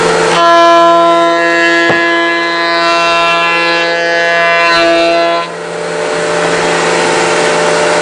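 A power saw recuts a wooden plaque with a loud, steady, harmonic motor whine that holds for several seconds and then winds down, leaving a fainter lingering drone close by.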